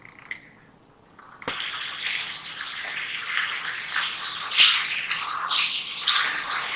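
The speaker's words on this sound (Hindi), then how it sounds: "ये कीमा डाल दूँगी" Minced meat hits about half a cup of hot oil in a kadhai, starting with a sudden thump and then a loud, steady sizzle and crackle that keeps rising and falling for several seconds, with no talking.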